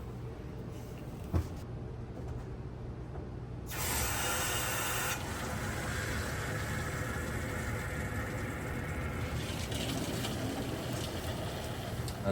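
Steady rushing hiss of water filling an under-sink water filter, loud and close, rising into a stronger broadband surge partway through and continuing without talk.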